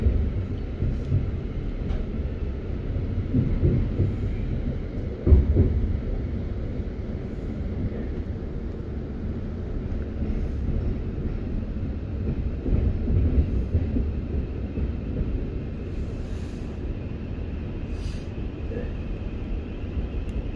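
A Thameslink Class 700 train runs between Hendon and Herne Hill, heard from inside as a steady low rumble with faint rattles and one brief knock, continuing evenly throughout.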